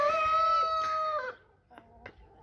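Rooster crowing in a chicken coop with hens, a loud close crow followed by a few softer clucks from the hens.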